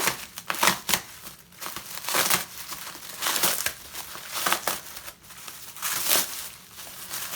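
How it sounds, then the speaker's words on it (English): Bubble wrap packing around a Macintosh Color Classic crinkles and crackles in repeated bursts as it is cut and handled while the computer is unboxed, close and fairly loud, with no talking. "That's some hard to cut bubble wrap."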